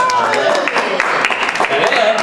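A church congregation claps together, a dense spread of hand claps filling the room over a couple of seconds, with voices talking over the applause.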